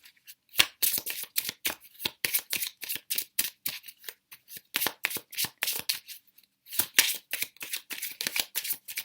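Tarot cards being shuffled by hand, a long run of quick crisp riffling flicks that come in rapid bursts with short pauses between them, close and fairly loud, with no talking.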